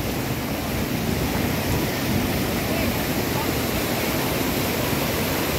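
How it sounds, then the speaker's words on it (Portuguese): Strong river water rushing steadily at a riverside bathing spot on the Paramirim River in Bahia, a continuous broadband roar close to the microphone with faint voices under it. "Passando bastante água ainda"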